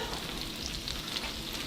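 Pork meat sizzles steadily in a frying pan, a continuous close crackle and hiss of hot fat with no voices over it.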